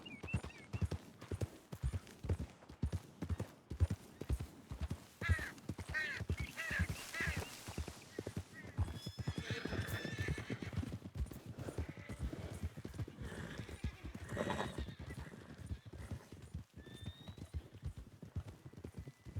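Horse hooves clip-clop steadily at a brisk pace in Red Dead Redemption 2, with a horse neighing and whinnying partway through, alongside occasional crow caws and ambient outdoor game sounds.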